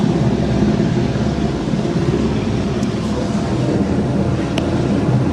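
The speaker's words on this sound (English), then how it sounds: "Choppers." Helicopters flying overhead in Sinaloa give a loud, steady roar that fills the whole stretch without a break, and no one speaks.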